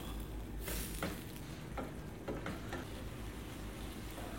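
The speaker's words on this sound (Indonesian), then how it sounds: "aduk-aduk." Potato curry filling for pastel is stirred in a pan, with soft sizzling and a few scraping strokes of the spoon against the metal, steady and close with no talk.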